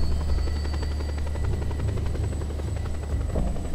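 A helicopter flies over the jungles of Panau in Just Cause 2, its steady rotor thump and engine drone loud and close, continuous throughout with no talk.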